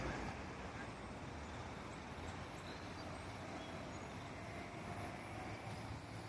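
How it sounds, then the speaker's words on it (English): Cars and trucks on North Decatur Road give a steady, moderately distant wash of traffic noise with no single vehicle standing out. "These cars couldn't come through at first, so now they're able to come through."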